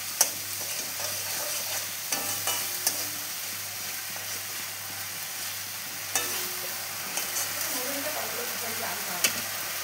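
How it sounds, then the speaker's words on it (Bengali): A paste of ginger, cumin, green chili and turmeric frying in hot oil, giving a steady close sizzle broken by occasional stirring scrapes. "আদা জিরে কাঁচা লঙ্কা আর হলুদ একসঙ্গে মিশিয়ে একটা মশলা বানিয়ে নিয়েছি, সেটা এখন তেলে দিয়ে দিলাম। ভালো করে কষিয়ে নেব।"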